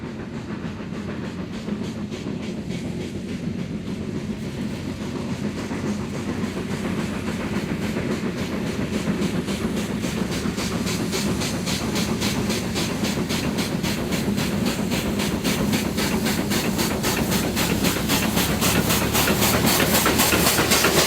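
A steam locomotive chugs steadily with rhythmic puffing and hissing, wheels clattering on the rails, growing louder and closer over the long stretch.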